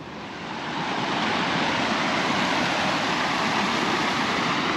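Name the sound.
rain and water running down through a field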